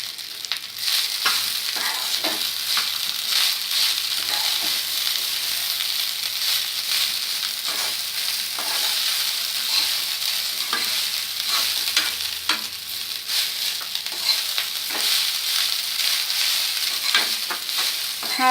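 Rice fries in a pan with a cumin-seed tempering, a dense, continuous sizzle with repeated stirring scrapes and clinks from a spoon throughout, fairly close and loud, no talking.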